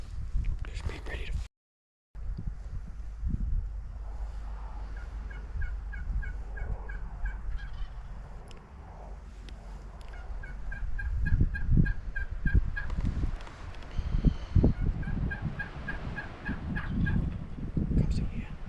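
Wild turkeys gobble repeatedly in Texas Hill Country brush during spring, in bursts of rapid rattling calls at moderate distance, separated by quieter stretches of rustling and hushed human whispering.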